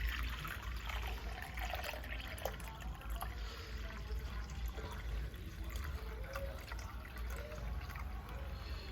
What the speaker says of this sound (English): I'm gonna add 4 cups of apple juice.